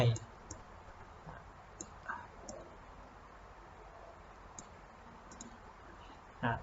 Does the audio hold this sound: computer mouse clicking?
yes